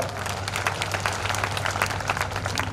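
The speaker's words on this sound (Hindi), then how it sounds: "उनके लिए जोरदार ताली बजाओ।" Dense, steady applause from a large crowd at an Indian political election campaign event, with a low hum underneath throughout.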